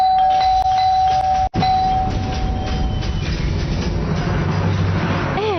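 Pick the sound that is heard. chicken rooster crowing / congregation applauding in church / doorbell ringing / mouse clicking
doorbell ringing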